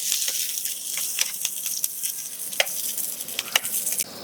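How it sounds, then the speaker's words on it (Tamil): Onions sautéing in a hot pan for chicken pulao give a steady, close sizzle with small crackles and the occasional stir of a spoon. "ஆனியனை கொஞ்சம் நல்லா வதக்கிக்கும்."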